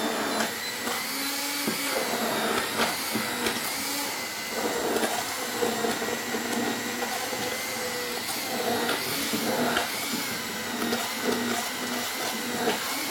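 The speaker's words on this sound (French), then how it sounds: "Je vous laisse mixer" A blender purées cooked parsnip in poultry stock, whirring loud and continuous up close with slight surges in pitch, and no one speaks.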